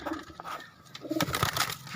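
Pigeons kept by young kabaddi players coo in short low bursts, a few calls close by amid light background rustle, with no speech.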